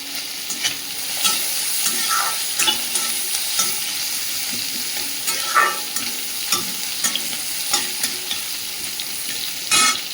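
Chopped onion and garlic fry in a small amount of oil in a wok. A steady, fairly loud sizzle crackles throughout, broken by occasional stirring scrapes and louder spits, with no talking.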